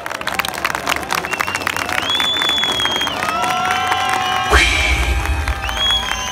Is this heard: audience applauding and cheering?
yes